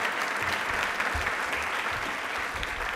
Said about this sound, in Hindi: तालियां प्लीज बाबा साहेब के लिए जोरदार वाली बजा दीजिए।